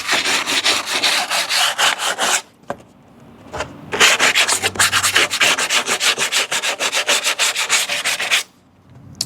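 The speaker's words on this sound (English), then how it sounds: "just get a little sandpaper. Just kind of smooth out the edges a little bit" Sandpaper smooths the edges of a homemade A/C window vent for camping. Close, rhythmic rubbing strokes repeat quickly in two runs with a short pause between them, and no voices are heard.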